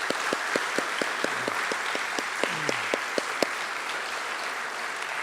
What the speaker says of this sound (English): Can we please give these volunteers a big round of applause?